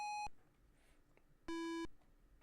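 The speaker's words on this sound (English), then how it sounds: "Maybe you should try ringing the doorbell." A doorbell in a DOS video game: two short electronic chime tones, bright and buzzy, sounding about a second apart against a faint background hum.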